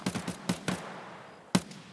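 Distant gunshots in a night raid in Escape from Tarkov, a few sharp cracks in a quick burst followed after a pause by one more shot, fairly faint.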